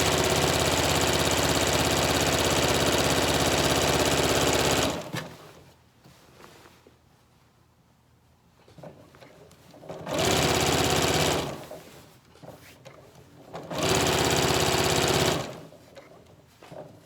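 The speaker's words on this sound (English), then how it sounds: "The sewing machine that I'm using," A sewing machine stitching the seams of a Yup'ik qaspeq, running in steady loud bursts of about five seconds, then about one and a half, then two, with quiet pauses between them.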